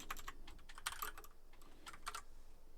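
Fingers type PHP code on a computer keyboard in quick clustered bursts of close, crisp key clicks separated by short pauses, quiet overall with no talking.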